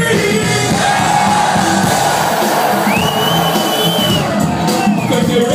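A packed concert crowd at a show at Paradiso Amsterdam screams and cheers in a dense, loud, continuous roar, with whoops and shouts rising out of the mass.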